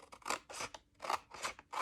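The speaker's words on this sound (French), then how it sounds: "je vais déjà couper avec ma paire de ciseaux" A pair of scissors cuts paper along fold marks for a two-part treat box, giving a quiet, close series of five or six rhythmic snipping strokes with no speech.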